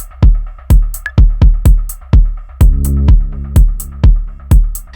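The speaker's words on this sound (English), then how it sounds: "what you just heard is a sustained note on number 8, channel number 8" Electronic sequencer pattern with punchy kick-like thumps and bright clicks, under which a synth note on one channel sustains and swells for about a second before the beat continues.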